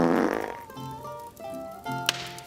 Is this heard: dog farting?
yes